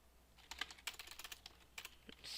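Typing on a computer keyboard while coding a website: irregular bursts of close, crisp key clicks, clustered in quick runs with short pauses between them.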